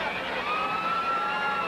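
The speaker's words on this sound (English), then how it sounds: "You can hear the crowd picking up the chant Fleabag" A wrestling arena crowd chants "Fleabag" at a woman wrestler, a steady, loud roar of many voices filling the hall with a continuous sustained tone.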